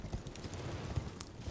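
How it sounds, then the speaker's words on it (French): Hoofbeats of Torrent, the horned spectral steed in the video game Elden Ring, clopping in a steady galloping rhythm at moderate level, with no voice over them. "Alors le cheval, hein, Torrent."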